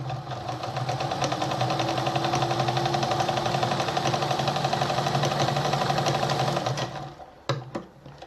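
An Adler model 489A sewing machine sewing, a fast steady mechanical whir and needle chatter running continuously for about seven seconds before stopping abruptly, followed by a couple of light clicks.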